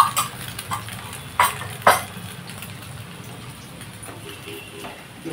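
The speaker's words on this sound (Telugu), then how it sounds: "ఉల్లిగడ్డ కాలుతుంది కదా" Onion frying in a pan for an omelette curry makes a low sizzle, with a few clinks and scrapes of stirring near the start. No voices.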